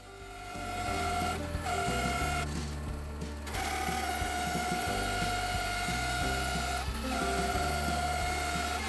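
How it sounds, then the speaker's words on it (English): A bandsaw fitted with a new blade cuts 10mm slices from a timber blank, a steady loud mechanical whine and hum with a few brief dips as the cut eases, running continuously without voices. "with a new blade fitted to the bandsaw, the timber blank cut very easily"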